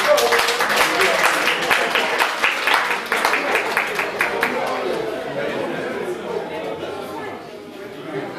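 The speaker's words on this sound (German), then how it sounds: "wir verdienen einen Applaus für uns" A party crowd at an intercultural event in Oldenburg breaks into applause, many hands clapping loudly at first and then thinning out, with crowd chatter running underneath and continuing as the clapping fades.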